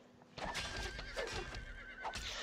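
Horses neighing and whinnying amid battle sounds in the strategy video game A Game of Thrones Genesis, several loud whinnies in succession over a steady clatter of hooves and combat noise.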